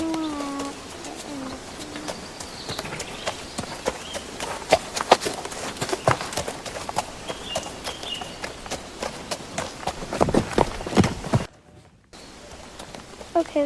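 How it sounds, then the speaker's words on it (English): Horse hooves clop steadily at an equestrian riding competition, with a dense run of sharp, fairly close hoof strikes and birds cooing in the background. "So this is the horse."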